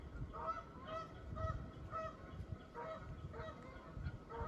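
Repeated goose honks call out in an irregular series at moderate distance, steady and somewhat faint against outdoor wetland ambience.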